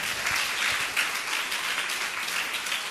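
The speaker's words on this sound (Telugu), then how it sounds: "కొట్టండి గట్టిగా చప్పట్లు" A church congregation at a Sunday worship service claps loudly together, a dense, steady wash of applause that fills the whole stretch without pause.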